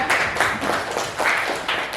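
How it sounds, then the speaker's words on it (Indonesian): A classroom of students claps for a presenting group, a short burst of dense, fairly loud applause with slight surges in rhythm and little talk. "Beri tepuk tangan yang lain untuk kelompok 3."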